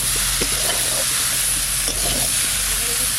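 Flat beans and yardlong beans frying in a pan with turmeric, giving a steady close sizzle with a few stirring scrapes and no talking.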